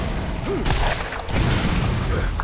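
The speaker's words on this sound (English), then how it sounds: "Double rocket launcher power." Double rocket launcher firing in a video game, a cluster of booming blasts and thuds in quick succession, loud and close, with voices reacting over the explosions.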